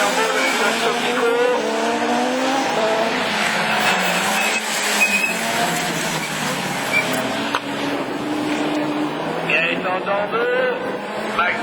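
A Citroën Saxo Super 1600 rallycross race car roars loudly at the start of a French championship race at Lessay. Its engine strains steadily with overlapping engine noise, under a commentator talking.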